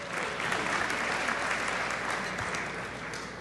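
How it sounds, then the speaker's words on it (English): Applause from a crowd at a community award ceremony, a dense, steady wash of clapping lasting a few seconds at even volume. "You're supposed to applaud to signal."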